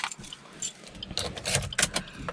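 Car keys jangle and clink as the key is pulled from the ignition of a Suzuki Baleno, a few bright metallic bursts close by with no talk.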